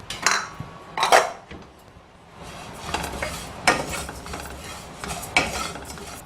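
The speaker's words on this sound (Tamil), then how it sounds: "அடுத்தது சீரகம் தனியாக வறுத்துக்கலாங்க" Cumin seeds dry roasting in a pan are stirred in a few bursts of scraping and rattling, with quieter stretches of faint crackle between strokes.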